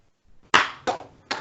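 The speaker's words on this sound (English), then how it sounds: "So one clap for Megan." Three sharp hand claps ring out one after another with short gaps between them, close and fairly loud in an otherwise quiet indoor setting, with no talking over them.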